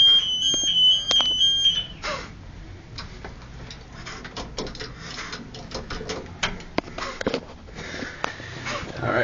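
An elevator alarm tone sounds for the first couple of seconds while stuck with doors that won't open, followed by a noisy stretch of clicks, taps and shuffling with faint voices.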